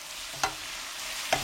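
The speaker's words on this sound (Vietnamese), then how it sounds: "Trộn đều cho đậu hũ thấm gia vị, rồi mình sẽ rim đậu với lửa nhỏ khoảng từ 3 đến 4 phút" Fried tofu simmers in a seasoning sauce in a pan over low heat, giving a steady close sizzle, with two brief scraping stirs of a utensil.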